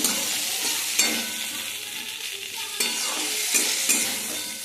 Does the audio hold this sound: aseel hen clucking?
no